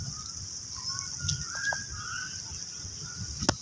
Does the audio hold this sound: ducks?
yes